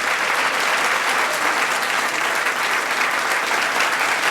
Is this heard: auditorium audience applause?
yes